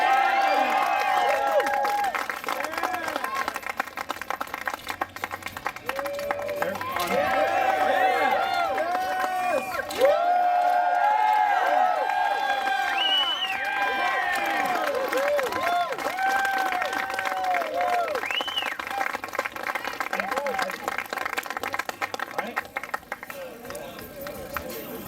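At a bike trials demo during a New Jersey bike festival, an outdoor crowd cheers and claps, with voices raised together and scattered shouts mixed through a sustained background of applause.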